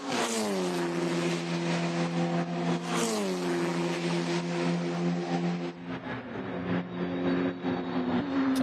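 A race car on a road course at Canadian Tire Motorsport Park, in a Formula Regional Americas race, drives through turn 8, its engine a loud, steady, close high whine that dips briefly as it lifts, then holds and climbs again.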